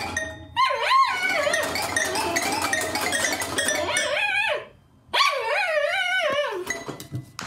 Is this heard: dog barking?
yes